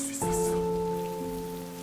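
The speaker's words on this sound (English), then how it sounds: "it rains" Steady rain falls in a Squid Game scene, a soft hiss that rises briefly at the start and then sits beneath sustained, droning musical tones.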